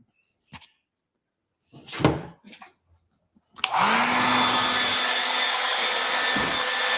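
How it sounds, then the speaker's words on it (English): After a few soft knocks and rustles, a hair dryer held up high switches on to dry a watercolor painting, blowing with a steady, loud whooshing hum. "I'm going to hold the dryer up high and I'm going to dry it"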